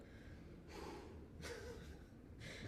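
Quiet, close breaths: a few soft inhales and exhales at a slow, irregular rhythm in an otherwise still room.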